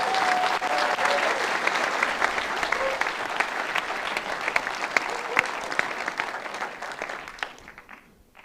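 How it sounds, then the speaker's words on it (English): A conference hall audience at a British skydiving awards and AGM claps steadily for about eight seconds, a dense, even patter that slowly fades out. "Now you can clap, make as much noise as possible."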